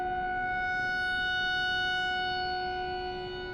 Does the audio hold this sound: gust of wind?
no